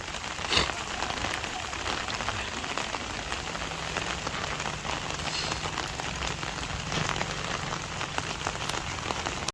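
Heavy rain pours steadily on a farm, a dense, even hiss of drops striking surfaces. It continues without letup and no voices are heard.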